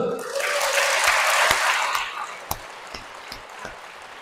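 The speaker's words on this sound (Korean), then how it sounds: "박수!" A Catholic congregation at a charismatic prayer meeting breaks into brief applause, a loud wash of clapping that fades within two seconds, leaving a few isolated claps.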